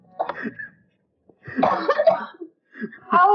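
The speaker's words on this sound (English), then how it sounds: "I was doing so good not coughing today, and then you ruined it." A person coughs several times in short, separate bursts, close and fairly loud against a quiet background, each fit lasting around half a second to a second.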